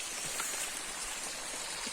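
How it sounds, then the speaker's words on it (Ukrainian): A small mountain stream near a six-metre waterfall in the Carpathian forest, with a steady, close rush of flowing water and no voices. "Ось тут починається потічок"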